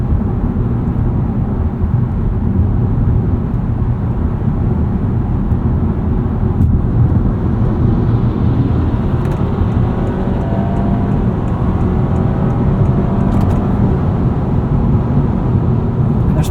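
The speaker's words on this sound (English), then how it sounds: "You can hear just how quiet this powertrain is." 2025 Honda Civic Hybrid sedan accelerating on the road, heard from inside the cabin as a steady low rumble of road and powertrain noise with a faint rising whine, no talking.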